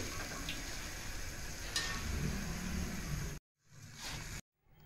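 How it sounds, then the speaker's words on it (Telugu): Wheat flour chips deep-frying in hot oil give off a close, continuous hiss and bubbling sizzle with faint ticks. The sound cuts off abruptly, briefly returns, then stops again. "మిగతావి కూడా ఇలాగే ఫ్రై చేసుకోవాలి."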